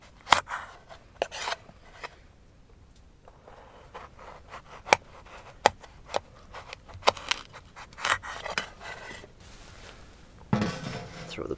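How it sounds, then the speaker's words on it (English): A knife cuts a potato into wedges, giving sharp, irregular chops against a board over quiet background noise, with a denser scraping burst near the end. "Gonna start with a potato. Take a little longer to cook. Just gonna cut them into wedges."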